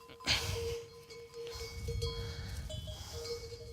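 A ewe bleats in a barn during lambing, a wavering cry near the start followed by softer bleats over rustling, shuffling and low background noise.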